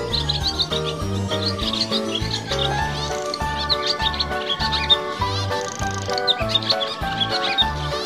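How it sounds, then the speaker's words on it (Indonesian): Dense, overlapping chirps and twittering calls of edible-nest swiftlets (burung walet), layered with a steady rhythmic pulsing, loud and close throughout with no talking. "Burung walet."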